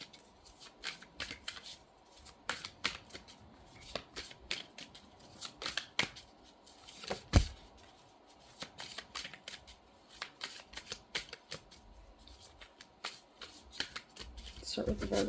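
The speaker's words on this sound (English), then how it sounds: "We're going to just pull 12 cards." Tarot cards are shuffled in quick, crisp bursts of riffling and flicking, close and fairly quiet, repeated throughout with brief pauses between handfuls.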